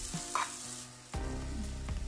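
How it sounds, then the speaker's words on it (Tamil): Chicken curry ingredients frying in oil for a Sri Lankan village dish, a short burst of close sizzling with a stirring scrape partway through and no talking. "எல்லாமே நல்லா எண்ணெயில் வேவுது"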